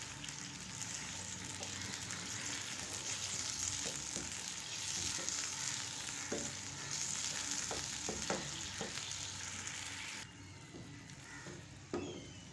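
Jaggery melts and cooks in a pan for chikki, giving a faint, continuous bubbling sizzle with scattered light clicks and scrapes of stirring.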